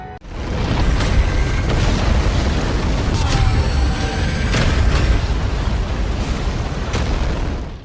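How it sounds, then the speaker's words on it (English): A sustained, roaring explosion rumbles loudly for several seconds, with crackling debris and sharp impacts layered over the deep boom. "the resulting blast from the attack turned into a massive explosion"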